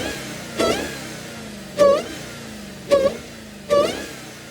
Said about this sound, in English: love that Hellcat whine